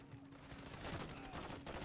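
Rapid gunfire in a Call of Duty multiplayer match, a dense, quiet stream of overlapping shots and bursts with a little faint background voice.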